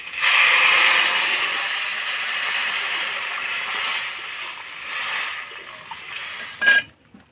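Water poured into a hot pan of frying eggplant for a thin Bengali fish curry, giving a sustained sizzling hiss that swells and fades in several waves, with a sharp clink near the end and no talk.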